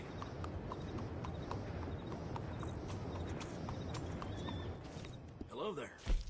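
A video game horse clip-clops steadily throughout under a faint ambient bed, then gives a short whinny near the end of the stretch.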